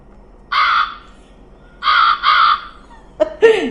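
Crow cawing played as a cheap sound effect: three harsh caws in a row, the last two close together, then a brief rougher call, loud and close with no talk over it.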